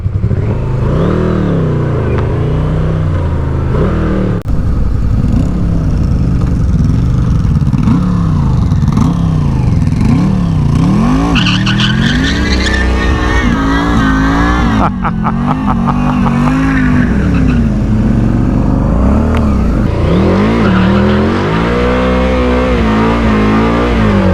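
Yamaha Vmax motorcycle engine revving hard during burnouts, a loud, continuous roar with rising and falling revs and sharp throttle changes close by, with a voice briefly heard beneath the engine noise.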